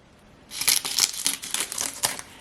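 Scissors cutting through folded sheets along the creases, a run of several quick, close crisp snips and crinkles over about two seconds.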